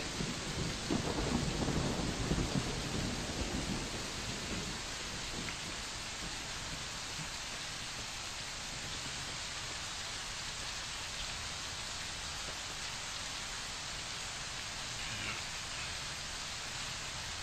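Constant heavy rain hiss in Fallout: New Vegas with a weather mod, a low rumble of thunder early on, the downpour continuing evenly afterward.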